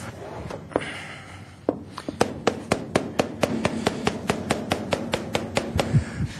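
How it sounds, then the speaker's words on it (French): A cellar master taps a ripening cheese wheel with a small hammer, a steady series of about twenty sharp, close knocks with a hollow resonance, quickening after a few sparse opening taps. "ce qu'on cherche à écouter dans ce geste de percussion-résonance, c'est quand le fromage arrive à maturité"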